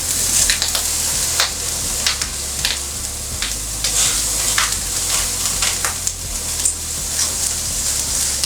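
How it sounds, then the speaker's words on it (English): Poached, already-cooked sausages sizzle on hot grill grates for charring, a steady close crackle with scattered sharp pops and spits throughout. "finish off our poached sausages, pretty much already cooked, onto the grill grates to get them some char, get them some color"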